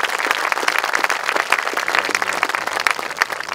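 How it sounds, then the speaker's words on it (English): Audience at an outdoor national monument dedication ceremony clapping, dense steady applause from a crowd, fairly close and sustained throughout. "So give yourselves a round of applause because you've made this day."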